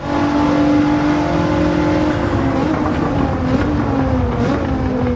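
Car engine in the racing video game Gran Turismo 7 roars loud and steady, its pitch holding high and then sliding slightly lower as it drones on alone with no talk.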